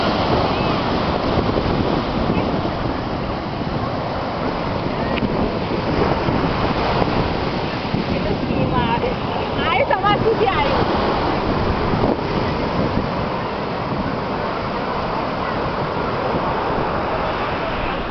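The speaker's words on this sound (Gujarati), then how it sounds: "આ ભૂગવતો દરિયો છે, જેના મોજાઓ તમે જોઈ શકો છો." Rough sea surf rolling onto the shore at Somnath, Gujarat, with steady wind buffeting the microphone. The roar of the waves is loud and continuous throughout.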